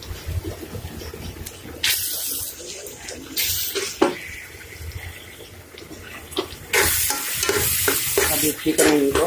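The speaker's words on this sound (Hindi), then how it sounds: "अब इसी तरह इनको भूनेंगे।" Tomato paste sizzles and fries in an egg curry masala with green chillies while a spoon stirs it in the pan. Loud bursts of hiss and scraping come and go over a constant background sizzle, close to the listener.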